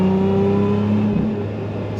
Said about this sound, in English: Sounds great because the engine is literally, I don't know, 15, 16 inches behind my shoulders, and just makes a great sound.